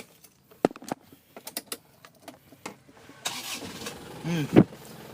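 A 2010 Isuzu Panther Grand Touring: a few sharp clicks and rattles come first, then the starter cranks and the engine catches with a rising burst near the end.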